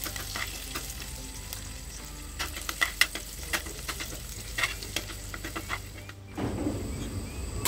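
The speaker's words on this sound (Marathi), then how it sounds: "तेल गरम झालंय, या तेलात आपण हे लसणीचे तुकडे थोडे लाल होईपर्यंत परतून घेऊया।" Garlic pieces frying in hot oil, a steady sizzle with spoon stirring taps and scrapes, the hiss briefly swelling near the end.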